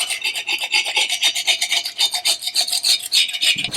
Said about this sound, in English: So a quick scrape to get rid of the worst of it.